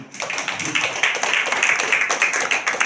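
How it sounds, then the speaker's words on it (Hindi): An audience at a satsang claps together at a steady, fairly quick rhythm, the sharp hand claps close and loud without any talking. "जरा उनके नाम से एक बार ताली बजाएंगे क्या?"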